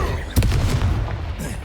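An Accio spell is cast in Hogwarts Legacy, a single short, muffled booming burst over steady low game ambience.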